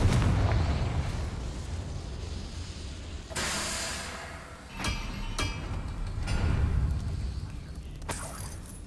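Confringo fire-blast spell explosions in Hogwarts Legacy, several sharp booming bursts spread over a steady rumbling game background.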